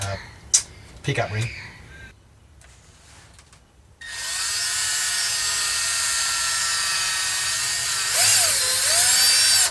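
A drill boring a pilot hole in a guitar headstock: after a few knocks and a brief spoken moment, a steady high whine of the drill runs for about six seconds, close and loud, with its pitch dipping briefly near the end.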